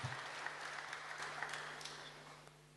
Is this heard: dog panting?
no